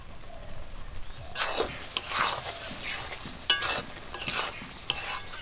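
Raw mango pickle is stirred gently after a splash of vinegar, giving a few quiet, scattered scraping strokes close by against a soft background hiss.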